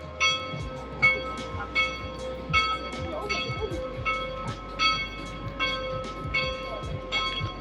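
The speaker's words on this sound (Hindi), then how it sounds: "चर्च की घंटियाँ बज रही हैं खूब।" Church bells ring in Brussels old town, struck about every three-quarters of a second in a steady clanging peal over a busy crowd murmur and nearby talk.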